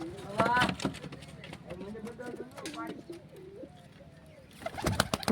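Soft pigeon coos come and go close by in a village, mixed with a person talking, with some louder bursts near the start and end.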